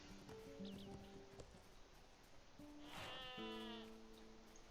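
A single sheep bleats in a wavering, nasal call, with soft tonal game music playing underneath.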